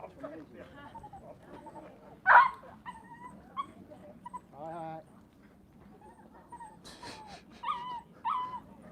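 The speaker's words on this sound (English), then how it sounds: "Oh, it's a King Charles Spaniel, I think." A King Charles Spaniel whimpers and yips in short, fairly faint bursts spread across the stretch, mixed in among people talking nearby.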